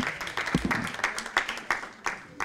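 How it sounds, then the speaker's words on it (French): Guests at a gala dinner applaud in a brief burst of clapping, the claps landing in a loose steady rhythm and audible throughout, close and moderately loud. "Applaudissez très fort, mon ami Diawara."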